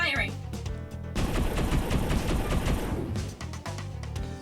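Sustained rapid gunfire in the video game Henchman Story, a loud continuous rattling volley lasting a few seconds, with game music and talking before and after.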